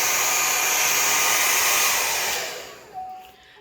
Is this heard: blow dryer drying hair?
yes